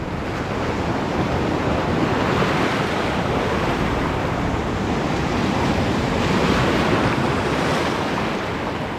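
Strong sea waves and surf roar continuously in a dense, loud wash. Gusts of wind buffet the microphone, and no one speaks.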